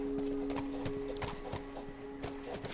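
Horse hooves clip-clop in The Last of Us video game, a faint irregular series of hoof strikes over a steady tonal hum of game ambience.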